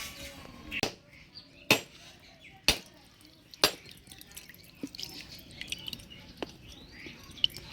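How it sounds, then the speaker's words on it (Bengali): Mature dry coconut being scraped and broken in a Bengali village kitchen, a few sharp cracking knocks followed by softer irregular scraping and tapping, quiet and close. "ততক্ষণ আমি নারকেলটা কুড়াই নিই"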